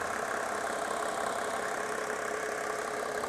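A Mercedes-Benz diesel engine converted to run on vegetable oil idles steadily, a continuous, even mechanical drone with a light knocking rhythm at close range and no speech.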